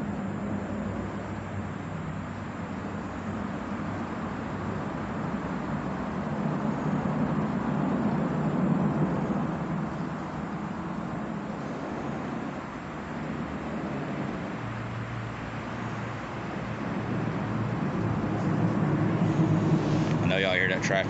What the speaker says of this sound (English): Y'all hear that traffic pulling up over me?